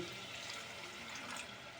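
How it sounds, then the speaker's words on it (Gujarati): Water pours steadily into a pan of frying masala for a fish curry, a continuous soft splashing rush that is fairly faint and has no talk over it. "થોડુંક પાણી નાખી દઈશું અંદર"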